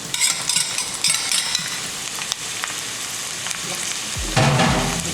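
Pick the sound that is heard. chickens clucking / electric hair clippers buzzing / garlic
garlic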